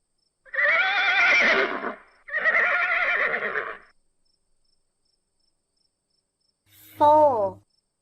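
Two long, loud neighs from a horse sound alone against silence, each a wavering whinny with a clear pitch. After a pause comes a shorter, higher whinny.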